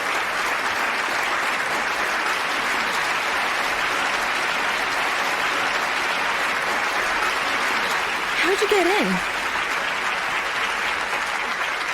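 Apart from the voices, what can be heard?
applause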